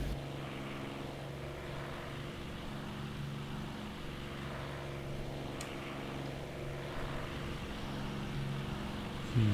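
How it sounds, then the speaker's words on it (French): A Rolls-Royce Merlin aircraft engine in a flight simulator game drones steadily with a deep, even, harmonic hum that holds at constant loudness throughout, with no voices. "Moteur Merlin Rolls-Royce"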